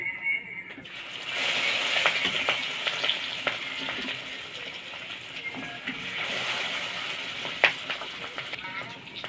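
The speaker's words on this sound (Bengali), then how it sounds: "মাছ ভাজে চাপিয়ে দিই" Fish stuffed with a filling is set into hot oil in a pan and fries with a loud, steady sizzle and occasional crackles and pops, heard up close with no talk.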